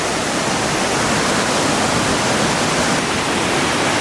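A powerful waterfall in Anglesey, Wales roars in a loud, steady broadband rush that fills the whole clip without a break, close by and with no voices over it.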